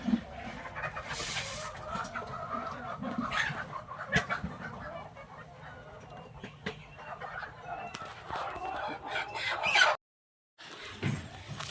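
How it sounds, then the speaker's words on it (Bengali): Native chickens cluck and chatter close by while eating black soldier fly larvae, with busy pecking and scratching and a few louder squawks, ending in a short gap. "দেখবেন মুরগি কিভাবে খায়।"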